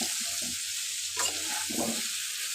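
Potatoes fry in a pan for dum aloo, a steady close sizzle with soft stirring and scraping and a brief louder clatter partway through, no voices.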